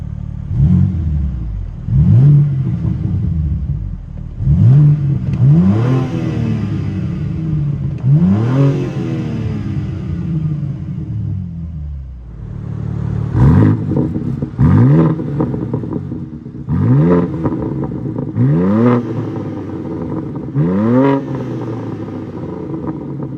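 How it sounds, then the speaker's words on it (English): The exhaust of a 2022 BMW M3 Competition xDrive revs again and again, each blip rising sharply and falling away, loud and close with a brief quiet lull in the middle. "Let's see how it sounds."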